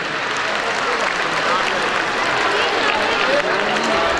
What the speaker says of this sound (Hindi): बेटा तालियां बजा दें खुल के